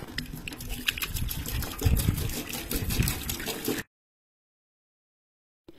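Water splashes and trickles steadily as feet are washed outdoors, close and moderately loud, stopping abruptly partway through.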